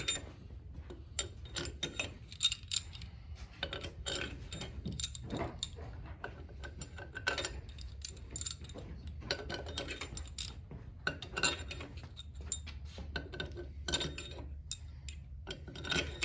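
A ratchet running down cylinder head bolts on a 6.0 LS engine, rapid close clicking in repeated bursts of varying length across the clip, with no talking.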